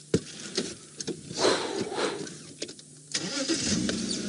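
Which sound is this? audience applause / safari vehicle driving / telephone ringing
safari vehicle driving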